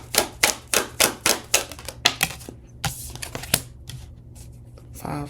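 A deck of tarot cards being shuffled up close, a quick run of crisp, regular riffling snaps followed by softer, looser card handling that trails off.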